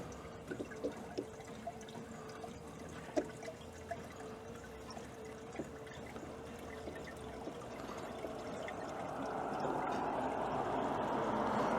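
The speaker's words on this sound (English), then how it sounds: "And we just got some water from the sink in a garden can. And we're just going to fill it up." Tap water poured from a garden can into a van's windshield washer reservoir: faint drips at first, then a steady, soft pouring rush that swells toward the end, with no voices.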